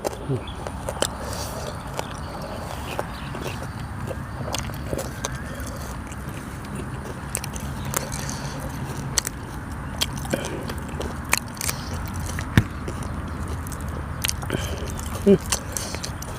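Crisp crunching bites and wet chewing of a crunchy beef skin salad repeat close to the mic, irregular and steady, with faint background noise throughout.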